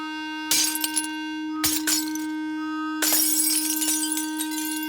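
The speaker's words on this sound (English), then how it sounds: "The vibrations were so strong that the glass literally shook itself to pieces." A delicate wine glass shatters after being vibrated by intense sound, with sharp bursts of breaking glass and tinkling shards over a steady loud pure tone, then a longer crash near the end.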